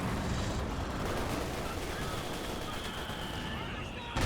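Battle noise from mortar pits firing in Company of Heroes 2, a dense continuous roar of explosions and gunfire that stays loud throughout and ends with a sharper burst.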